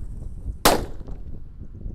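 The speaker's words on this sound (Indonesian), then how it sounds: "Selanjutnya kita akan menyalakan mercon disco happy flower warna ungu." A purple disco happy flower firecracker going off with one sharp, loud bang that decays within a fraction of a second, against a quiet outdoor background.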